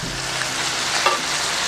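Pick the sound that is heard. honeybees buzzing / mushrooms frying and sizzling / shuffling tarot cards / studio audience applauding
mushrooms frying and sizzling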